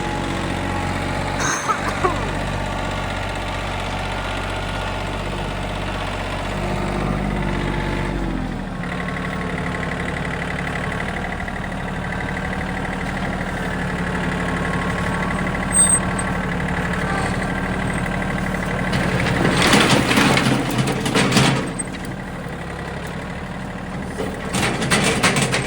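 A tractor engine idles close by in a steady low rumble that runs throughout, rising briefly louder near the end, with occasional clunks and little talk over it.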